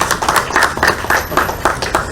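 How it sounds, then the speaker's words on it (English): Applause from a San Fernando crowd gathered on Harris Promenade for a mural unveiling, a steady run of close clapping with uneven surges and no voices over it. "San Fernandians, give yourselves a round of applause"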